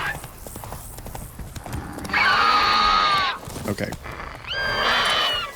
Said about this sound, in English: Come meet some wild horses, I guess.